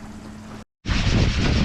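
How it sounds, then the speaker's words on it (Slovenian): Strong headwind buffets a sailboat crossing the Pacific, a loud rushing roar with microphone wind noise that cuts out briefly and then returns harder. "Zdaj je pa začelo kontra pihati."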